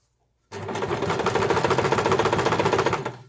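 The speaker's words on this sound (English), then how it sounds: "when you sew through those joins like I've just done, there might be a little bit more bulk to get through" Sewing machine stitching through the piping of a cushion cover, starting abruptly and running as a loud, close, rapid rhythmic whir for about three seconds before stopping.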